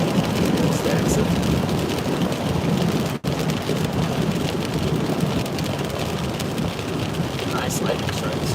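Steady heavy rain hisses through a nighttime storm during a nocturnal tornado outbreak in eastern Missouri and southern Illinois, with a low rumble of thunder underneath and a brief dropout partway through; no speech.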